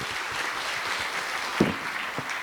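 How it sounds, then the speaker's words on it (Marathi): Audience applause honoring the daughter of a senior poet at a school annual social day, a steady broadband clatter of many hands throughout with a couple of sharper claps standing out. "जोरदार आपण टाळ्या वाजवूयात"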